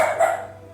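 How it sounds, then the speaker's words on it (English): A dog barking at the neighbouring dogs next door, a single short bark heard at moderate distance, brief and alone. "My dog's over here trying to fight one of the dogs next door or something."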